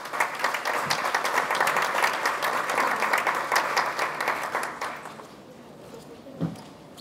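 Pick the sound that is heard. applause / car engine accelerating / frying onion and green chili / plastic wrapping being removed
applause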